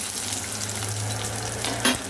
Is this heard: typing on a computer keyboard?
no